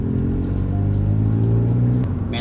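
A steady, droning engine of a 1996 Honda Del Sol rumbles at close range, as if heard from inside the moving car, with a brief change in pitch near the end as it shifts gears.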